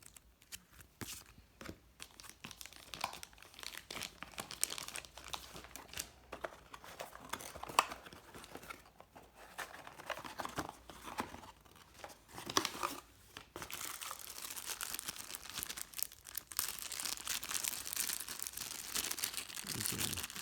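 Paper instruction manuals and packaging for a WingHome 630M trail camera being unpacked, with steady close crinkling, rustling and tearing for about twenty seconds, louder in the latter half, and no talk.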